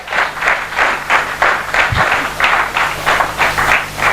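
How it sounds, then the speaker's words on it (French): A church congregation at a French-speaking religious congress claps in unison for the Lord, with loud, rhythmic bursts of many hands repeating about twice per second, close and steady, with no speech over it. "Clap for the Lord."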